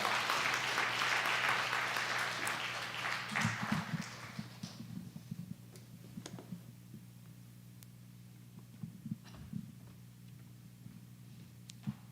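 Applause from a church congregation at a Sunday afternoon service, fairly loud at first, then fading into quiet scattered sounds over a steady low hum.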